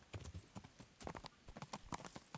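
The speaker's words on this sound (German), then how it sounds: "Ein blödes Pferd, nimm die Hufe in die Hand und mach jetzt mal." A horse's hooves clip-clop in quick uneven beats in the video game Kingdom Come: Deliverance, close and fairly quiet, with a faint trace of talk underneath.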